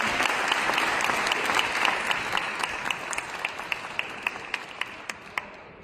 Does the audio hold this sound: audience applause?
yes